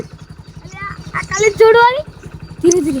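A motorcycle engine idles steadily with a fast, even chug close by while a beginner learns to ride, as people talk loudly over it.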